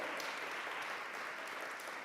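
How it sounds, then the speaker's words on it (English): Applause from an arts awards audience, a continuous even roar of many hands clapping together, distant and steady for a couple of seconds without pause. "Yeah, you can clap for that."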